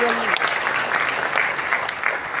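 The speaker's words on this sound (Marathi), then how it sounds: "जोरदार टाळ्या झाल्या पाहिजेत आणि यांच्या कामालाच आमचा सलाम" Enthusiastic applause fills the hall at a state-level award ceremony in Solapur, steady dense clapping lasting the whole moment.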